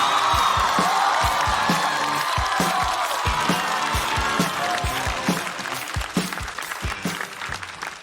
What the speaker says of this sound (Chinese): 我们掌声有请卡卡。